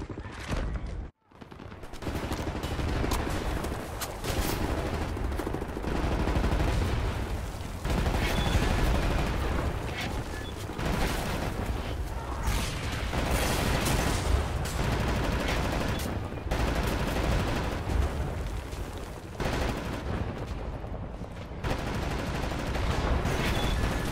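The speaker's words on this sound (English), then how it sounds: "You ready to lay down suppressive fire?" Sustained suppressive gunfire in the shooter Wolfenstein: The New Order, a dense, loud battle din of overlapping rifle and machine-gun bursts that runs almost without pause, broken once by a brief silence near the start.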